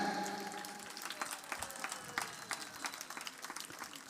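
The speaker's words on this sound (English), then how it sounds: "Hands, give them a big hands." Faint, scattered audience applause at a Radha Madhava festival in Sridham Mayapur, a light patter of many hands clapping at moderate distance with soft crowd murmur underneath.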